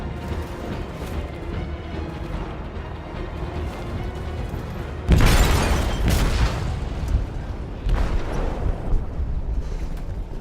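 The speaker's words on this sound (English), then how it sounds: "They detonated an explosive in the hold." An explosive detonates in a ship's hold in Detroit: Become Human, a sudden heavy boom that breaks over a low rumbling background, followed by rolling debris noise and a second, smaller blast.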